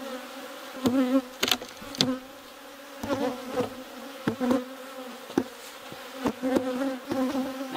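Honeybees at an opened beehive hum in a steady, tonal drone, and individual bees swell loudly past at close range in repeated surges with no voices.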